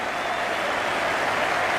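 A huge stadium crowd of over 87,000 at the Melbourne Cricket Ground roars and applauds through the 1992 Cricket World Cup final, a dense, steady wall of cheering that stays loud and constant from start to finish.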